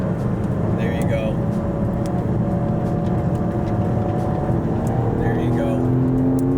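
A GT4 race car engine droning steadily on a racetrack, a constant loud hum with a passing whine, while an instructor gives driving coaching over the noise.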